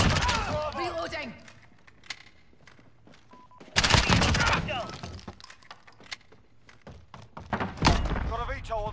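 Weapon reloading and gunfire clatter in the Modern Warfare hardcore multiplayer game with an MP7, with mechanical clicks, thunks and bursts of shots under radio voice chatter, loud impacts recurring across the stretch.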